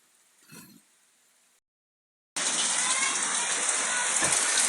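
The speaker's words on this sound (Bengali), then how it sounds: "আবার জোরে বৃষ্টি এলো বাতাসও জোরে বইছে" After a quiet stretch and a short silence, heavy rain driven by strong wind bursts in as a loud, dense, continuous hiss that stays constant to the end.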